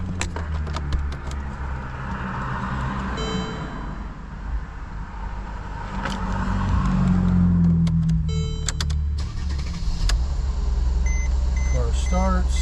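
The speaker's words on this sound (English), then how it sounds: "Car starts." A 2014 Mercedes-Benz GLK 350 starts and settles into a low idle after its keys are programmed, with beeps and mechanical noises along the way and people talking nearby.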